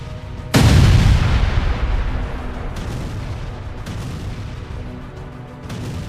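A heavy, close explosion booms and rumbles for seconds, followed by fainter distant thuds of further blasts.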